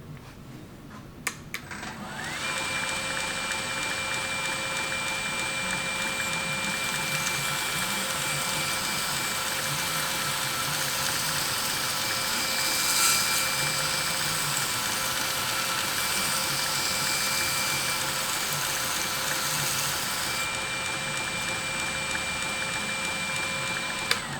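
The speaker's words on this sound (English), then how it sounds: "I actually lift the blade up slightly on the wheel so that I can grind here where I can see it" A knife blade being freehand ground on a grinder wheel makes a continuous high whining, rasping drone that starts after a brief clatter and holds steady and loud for about twenty seconds, with no voices.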